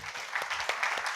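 Conference audience at a jsday 2019 web-development talk clapping for a gentleman, soft and somewhat distant scattered claps over a steady room hum, brief and without speech.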